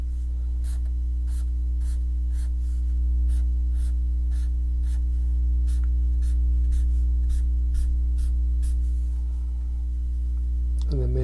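Pencil sketching a page layout with columns on paper, heard as repeated short scratchy strokes in a steady rhythm over a constant low electrical hum, close and fairly quiet, with no talking.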